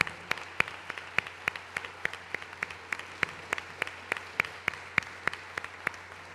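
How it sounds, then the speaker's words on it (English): Sparse applause at a Women's History Month media event honoring embassy women, a few people clapping in a steady, evenly spaced rhythm, sharp individual claps over a faint low hum, moderate level throughout. "if you could please give them all a round of applause"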